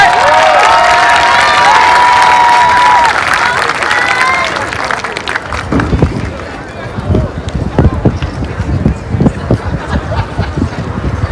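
A graduation crowd at a high school ceremony applauds and cheers for the senior class president, a loud dense roar of clapping and shouts that thins into scattered claps and calls by the end.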